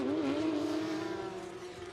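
Porsche Carrera Cup race cars brake hard into a turn, their engine note falling in pitch as they slow from high speed, loud and close with a steady harmonic drone that drops gradually.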